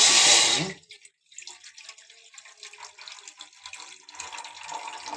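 A brief rush of water splashes into a tea pot on a stove, then fades to a quiet trickle and faint sloshing.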